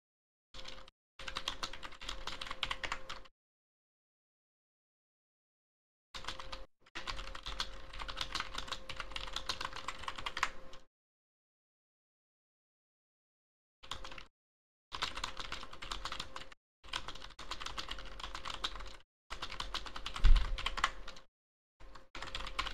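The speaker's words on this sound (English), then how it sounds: "Can you hear typing? Yeah, that's me." Rapid keyboard typing in several bursts separated by silent pauses, close and steady, with no voices.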